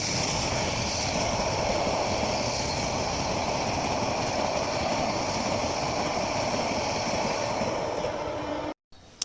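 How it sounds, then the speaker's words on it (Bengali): The Cox's Bazar Express train moves through Cumilla railway station in the evening. It makes a steady, loud rumble and rattle of wagons that lasts the whole stretch, then cuts off abruptly near the end. "এই ট্রেনটি হচ্ছে কক্সবাজার এক্সপ্রেস ট্রেন।"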